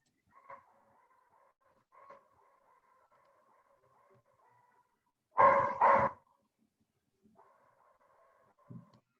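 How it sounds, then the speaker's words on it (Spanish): A dog on a Zoom call during an online pharmacology class gives two loud barks close together midway, heard through the call audio over a faint steady hum, with a few softer blips before and after and no talk. "Creo que perdemos a David, pero sí escuchamos a su perro."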